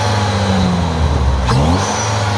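A Pontiac Solstice fitted with a turbo kit and running a rough tune revs hard up close, its engine note rising and falling through one loud, sustained burst with no talking.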